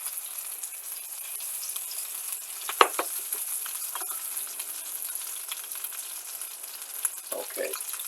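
Whole shrimp frying in a pan, a quiet steady sizzle running throughout with an occasional light clink of a utensil against the pan.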